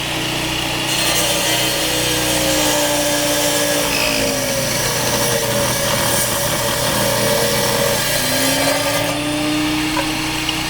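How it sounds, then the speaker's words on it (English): A stone-cutting saw trims excess rock from trilobite fossil specimens, producing a continuous loud grinding whine with a slowly shifting pitch as the blade bites into the stone, steady and close with no voices. "they would use a stone cutting saw to trim off the excess rock from some of my specimens"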